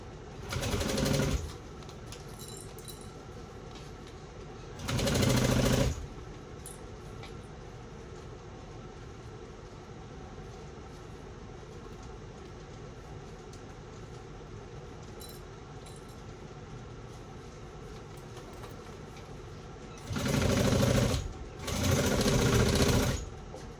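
A sewing machine stitches a fabric shoulder bag with the stitch length set at 3. Short runs of fast, whirring needle strokes start and stop, separated by long quiet stretches of faint room noise.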